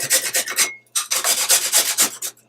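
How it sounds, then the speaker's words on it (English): Fresh ginger grated on a small grater, quick close scraping strokes in two bursts separated by a brief pause, crisp and fairly loud with no speech. "to grate the ginger, you just grate it with a small grater"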